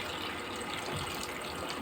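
Water pours steadily into a cooking pot of sautéed sardine soup base, a close, continuous gushing splash with no pauses and no talking.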